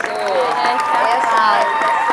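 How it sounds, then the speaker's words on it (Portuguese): An audience applauds at a talk on obstetric nursing, a dense sustained wash of clapping with a voice and crowd noise mixed in. "Vamos aplaudir o aplauso especial"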